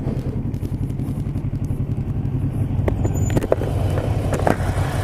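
A 2017 Kawasaki Z650 motorcycle engine hums under way as a steady, smooth low drone with wind rush, holding an even pitch throughout with a few light knocks near the end.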